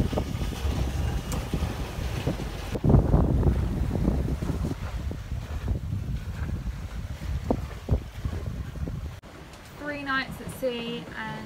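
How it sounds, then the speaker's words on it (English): A sailboat runs on a beam reach at about seven knots in a twelve-knot breeze offshore, with steady wind rush and water noise; a voice talks over it, then gusts ease and high whistling sounds, likely dolphins, appear. "We are flying along at 7 knots. We got 12 knots of breeze on a beam reach"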